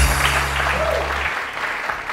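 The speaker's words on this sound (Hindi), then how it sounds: "आप मेरे बैंड के लिए बहुत सारी तालियां" An audience on a TV morning show applauds the host's band, a brief spell of clapping over a low sustained musical hum that cuts off partway through.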